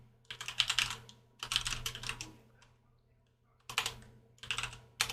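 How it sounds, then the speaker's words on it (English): Rapid typing on a computer keyboard in close bursts of clattering keystrokes, broken by short pauses, with a faint steady hum underneath. "My typing is terrible right now."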